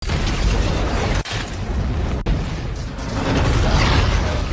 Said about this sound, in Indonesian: Ledakan itu kemudian disusul kobaran api yang melalap Deepwater Horizon.